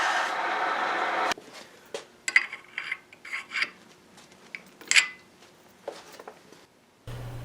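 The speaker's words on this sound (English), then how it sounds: "I just sanded the bushing until it fit." Hand-sanding a bushing to fit while mounting a VW diesel engine and transmission in a Spitfire: a rough rasping rub at first, then short intermittent scraping strokes, fairly quiet and close in a workshop.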